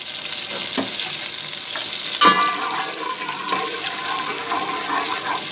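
Garlic ginger paste sizzling in hot oil for an okra dish, a steady close frying hiss with a few spoon taps and scrapes, including one sharper knock midway.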